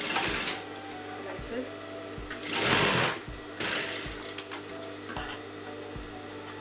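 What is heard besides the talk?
sewing machine stitching fabric onto canvas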